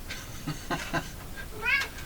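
An indoor cat gives a few short, breathy meows, ending in a clearer, higher-pitched call. The sounds are close and moderately loud, with no talking.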